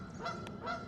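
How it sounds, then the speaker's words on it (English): Canada geese honking by a lake, two short nasal honks under a second, faint and somewhat distant over a soft outdoor background. "A lot of mallards and Canada geese and everything."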